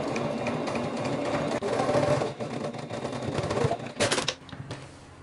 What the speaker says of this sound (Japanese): 返し口を縫っていきます。